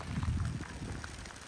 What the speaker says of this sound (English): It's raining now. It's straight up raining.